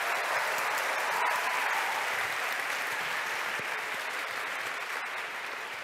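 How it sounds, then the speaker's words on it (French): A concert hall audience applauds performers in a full, steady wash of clapping that holds loud and even, tapering slightly toward the end. "Je pense qu'on peut les applaudir encore plus fort."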